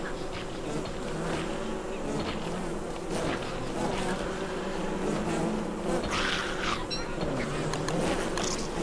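Bees buzz around a bee nest in the video game Don't Starve Shipwrecked, a continuous droning hum with several layered buzzes rising and falling at steady loudness.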